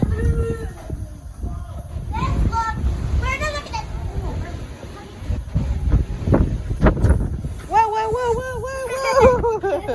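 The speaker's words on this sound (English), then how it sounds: "It's windy." Wind blowing outdoors near the ocean at a beach resort, gusty rumbling buffeting the microphone underneath children's voices and people chatting nearby.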